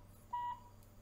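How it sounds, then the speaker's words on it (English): A Skywatcher EQ5 telescope mount gives a single short, faint electronic beep as it connects to control software, a thin steady tone lasting about a quarter second over low background hum. "and there will be some beeps."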